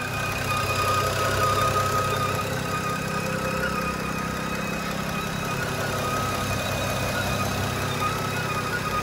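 A tuned BMW E90 335i engine runs steadily with a droning hum and high whining, squealing, howling tones layered on top, continuous and fairly loud.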